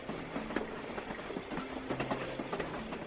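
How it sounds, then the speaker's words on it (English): Train rolling along in the mobile game Pocket Trains, running from Amsterdam to Paris: steady rumble with a rhythmic clickety-clack of wheels and short tonal squeals, continuous and moderately close, no voices. "the train going from Amsterdam to Paris, slowly making its way"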